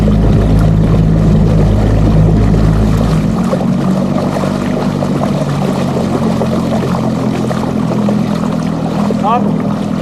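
A fishing boat's outboard motor in the Danube Delta drones steadily at low pitch, with water splashing and rushing around it, continuous and fairly loud throughout.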